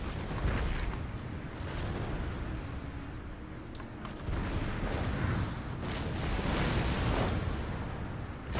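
Artillery and mortar fire in the strategy game Empire: Total War, a dense continuous roar of booming cannon blasts and rumbling explosions layered together over several seconds, loud and sustained with sharper reports scattered throughout.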